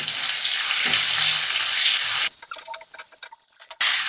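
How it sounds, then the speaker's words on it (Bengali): A small amount of onion frying in a pan sizzles loudly and evenly at first. The sizzle then drops to a quieter bed of sharp pops and crackles, with no voices. "পেঁয়াজ ভাজতে দেবো, অল্প পেঁয়াজ, বেশি নয়"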